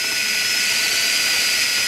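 Power drill boring straight into the wing of a model jet while it is held down in a groove, a steady high-pitched whine running continuously at close range with no talk.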